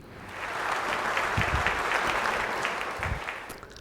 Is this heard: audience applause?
yes